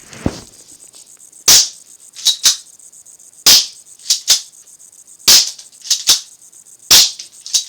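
A G11 BB gun fires at a cardboard box in sharp, loud cracks, each shot paired with a quick second snap of impact, in four evenly spaced bursts with quiet gaps between.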